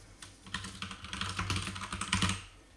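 Fast bursts of typing on a computer keyboard as a report name is entered, quiet and close, with irregular clusters of key clicks.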